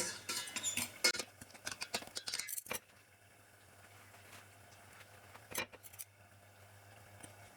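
Samosas turned with two forks while frying, a quick series of light metallic clicks and scrapes over a soft frying hiss, then a quieter stretch with a couple of isolated taps.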